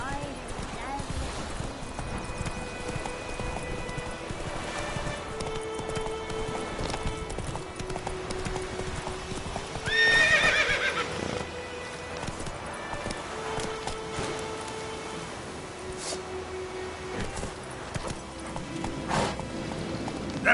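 Geralt's horse Roach in The Witcher 3 walking with steady clip-clopping hooves, then one loud whinny about midway, set against game music and ambience.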